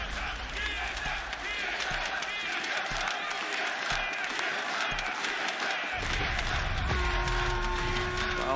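A live esports crowd at the Rainbow Six Siege Invitational 2020 cheers and applauds as a steady, dense roar of voices and clapping, with commentators talking over it.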